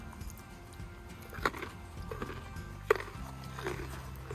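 A farm horse bites and chews a carrot close by, with a crunchy snap near the start and another sharper crunch midway over a low, steady chewing and ambient background.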